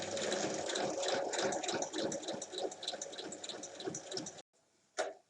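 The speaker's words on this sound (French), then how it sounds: "je retourne le tissu et je redescends en piquant dans mes points" A sewing machine runs steadily, stitching fabric for a bag in a continuous rapid whir, then stops. One brief clunk follows in near silence.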